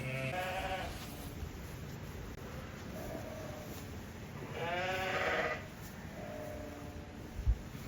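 Ewes and lambs bleat in two clear bursts, a longer wavering call around the middle with fainter answering bleats, over a steady outdoor background hiss.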